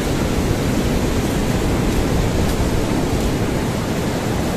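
Loud, unbroken roar of heavy surf on the sea at Camaya Coast, a dense rushing wash of breaking waves with no pauses or voices.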